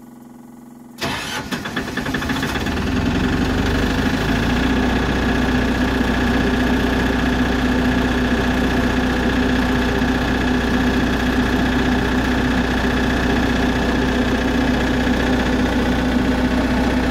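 Military surplus generator engine cranks and starts, then settles into a loud, steady idle while warming up, a continuous hum with a constant low drone.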